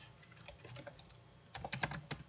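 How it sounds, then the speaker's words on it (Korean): Computer keyboard typing out the words Python and Java, with a lighter run of keystrokes followed by a denser, louder burst of rapid clicks, close up and with no voices. "파이썬과 자바라고 입력해 보도록 하겠습니다"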